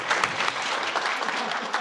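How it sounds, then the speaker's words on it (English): An audience at a summer forum program celebration claps in a brief, steady burst of applause, moderately close and unaccompanied by speech. "We'll give them a round of applause."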